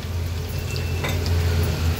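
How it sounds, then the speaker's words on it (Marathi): Garlic cloves and asafoetida fry in hot oil as a tempering for Maharashtrian alu fatfata, giving a constant close sizzle over a low stove hum. "थोडंसं परतून घेऊया ही फोडणी"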